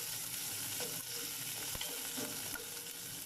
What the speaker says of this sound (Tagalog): Ilutuin natin ng konti ang kamatis.